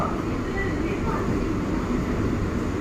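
An AC EMU suburban train pulls out of Chennai Fort railway station, its loud, steady rolling rumble and hum filling the whole stretch without a break.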